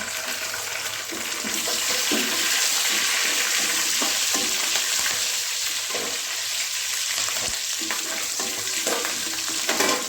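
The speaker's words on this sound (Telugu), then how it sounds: "ఇప్పుడు ఏపిన పన్నీర్లో ఆయిల్ ఉంటుంది కదా అందులోనే ఇప్పుడు పచ్చిమిర్చి టమాటా వేసుకోవాలి" Green chillies and tomato go into the oil left over from frying paneer for a paneer masala curry, giving a loud, steady close-up sizzle with scattered stirring scrapes throughout, and no talking.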